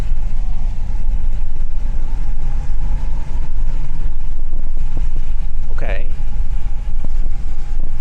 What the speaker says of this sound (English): This engine is really smooth.